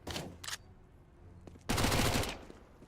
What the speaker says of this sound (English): this Mac 10 is absolutely popping off